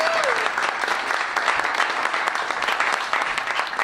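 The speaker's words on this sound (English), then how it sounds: "Let's give him a round of applause." A community meeting audience gives sustained, even applause with dense clapping for several seconds; a voice is briefly heard at the start.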